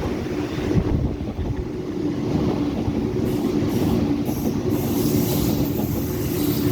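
A Sydney Leppington service train runs through a station without stopping, its loud steady rumble of wheels and carriages with high squeals and rhythmic rail clatter filling the entire stretch, close by.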